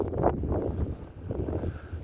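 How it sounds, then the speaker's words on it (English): Strong wind gusts buffet the microphone outdoors while fishing, a low, rumbling roar rising and falling steadily throughout with no other clear sounds. "that wind gust is brutal"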